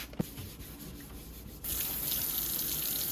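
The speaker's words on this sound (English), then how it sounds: "I'm going to use this sink again to rinse the shoes" Warm water runs from a sink tap to rinse dye out of canvas shoes, starting softly and then gushing in a steady, close stream.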